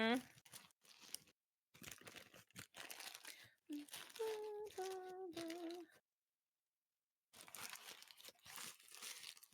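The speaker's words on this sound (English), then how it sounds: "Everybody listening to my rustling." Plastic food packaging around a Taco Time burrito crinkles and rustles up close in loud bursts, broken by short silences, with a person speaking over part of it.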